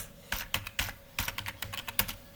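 Typing on a computer keyboard into a search box, close and clear: quick clusters of key clicks in short bursts with brief pauses between them, no talk.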